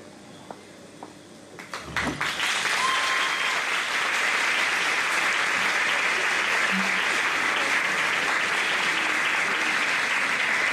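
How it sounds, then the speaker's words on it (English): Graduates at a high school graduation ceremony rise and applaud their parents and guardians: after a few scattered claps, dense, loud hall-wide applause swells and carries on evenly, with faint voices underneath. "Graduates, I invite you to stand with me and give a heartwarming applause to"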